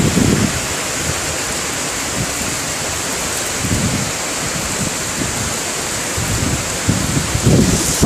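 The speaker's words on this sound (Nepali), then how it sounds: "danger raining time in Malaysia" Heavy rain pours steadily during a storm in Malaysia, a dense, continuous hiss with low rumbling gusts swelling at the start, middle and end.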